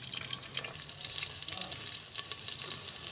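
Chopped onion fries in hot ghee in a pan, a soft continuous crackling sizzle heard close but faint, with no talking.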